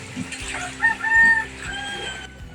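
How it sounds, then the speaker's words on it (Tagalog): A rooster clucks and crows nearby, a short loud call over a low background hum. "Ayun, manok uli."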